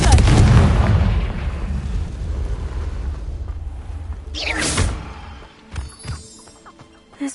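Confringo fire spell blasting in the Hogwarts Legacy video game on PS5, a heavy rumbling burst at the start fading into debris, then a sharp second crackling blast and scattered small impacts afterward.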